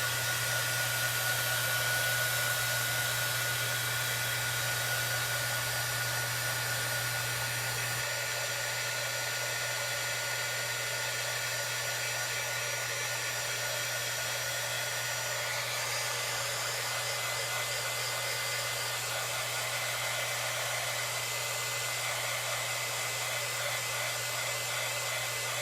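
A hair dryer blows steadily and close up for the whole stretch, drying freshly painted letters on a buffalo plaid heart craft, its constant whine and airy rush unbroken from start to finish.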